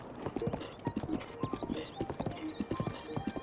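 A horse's hooves clip-clop in a steady trotting rhythm during horseback riding in a Zelda game, Tears of the Kingdom, with a voice talking over the hoofbeats.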